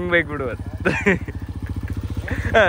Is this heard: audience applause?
no